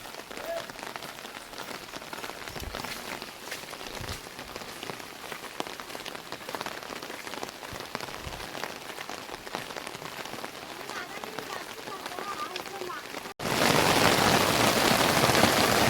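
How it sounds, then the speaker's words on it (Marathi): Heavy monsoon downpour in the Konkan region pattering densely and steadily on surfaces nearby, a loud continuous wash of rain that swells even louder near the end. "पाऊस बघा जोरात पडतोय"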